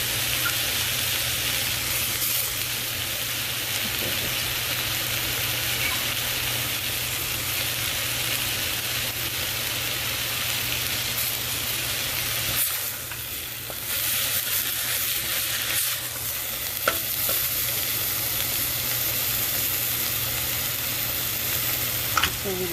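Sprouts fry in a hot pan for a ragi, jowar and barley vegetable soup, a loud, continuous broad sizzle with occasional stirring scrapes and small clicks throughout, with no talk.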